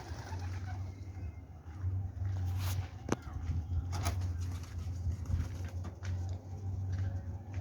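Pigeons coo on a rooftop as steady low murmuring under the ambient noise, with a few brief sharp knocks and rustles scattered through.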